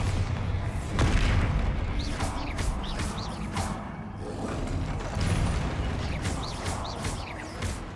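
Magical blasts from the Bombarda spell in Hogwarts Legacy go off during a fight with a troll, a series of booming explosions mixed with whooshing spell effects, some sharp bursts rising above a constant rumble.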